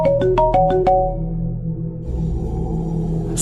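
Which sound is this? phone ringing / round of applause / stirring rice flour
phone ringing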